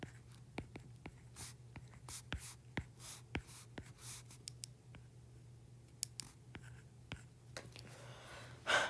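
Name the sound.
writing out geometry notes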